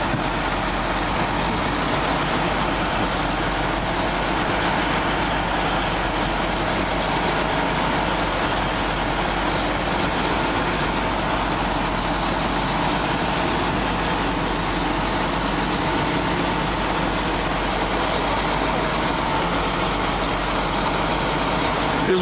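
Fire engines running their engines at a house fire, a steady droning idle with a continuous rumble that holds evenly throughout, no clear talk over it.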